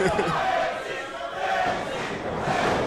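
A live pro wrestling crowd at a West Coast Pro Wrestling event in San Francisco roars and cheers in a broad, sustained swell, heard under and between bits of commentary.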